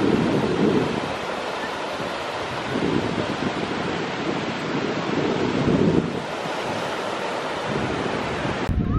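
Surf rolls in at a beach under strong wind buffeting the microphone, a continuous loud wash of breaking waves with swells rising and falling every few seconds.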